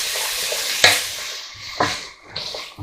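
Chopped garlic and other ingredients sizzle in a pan for spaghetti bolognese, with three distinct scraping stirs of a spoon over the steady frying hiss.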